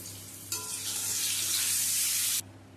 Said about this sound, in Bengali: ডিমগুলো তুলে নেওয়ার পরে ওই তেলের মধ্যে প্রথমে আলুটা ভেজে নেব।